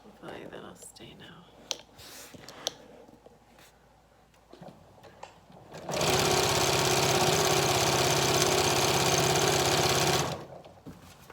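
A sewing machine stitches a skirt onto a qaspeq, a hooded Yup'ik garment, running steadily and loudly for about four seconds after quiet handling of fabric and soft rustles.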